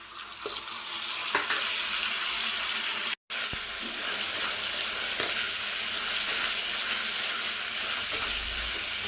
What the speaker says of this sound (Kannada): ಈಗ ನಾನು ಟೊಮೊಟೊ ಹಾಕೋತಾ ಇದ್ದೀನಿ.